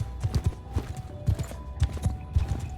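Horse archers riding in Mount & Blade II: Bannerlord, a fairly close, uneven clatter of galloping hooves in repeated bursts, loud and alone with no talk over it.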